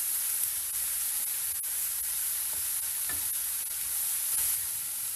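Bean sprouts stir-fried in a hot pan for ginisang togue, with a steady broad sizzle and scattered scraping clicks of stirring. The sound is close and continuous, with no talking.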